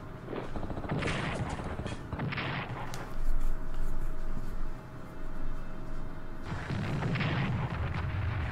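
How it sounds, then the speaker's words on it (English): Repeated artillery and gunfire bursts with booming impacts from an anti-tank attack in the World War II strategy game Strategic Command: World at War, loud and sustained with heavier blasts around the middle and end, no talk. "No surprise with this anti-tank attack."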